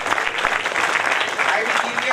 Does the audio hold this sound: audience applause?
yes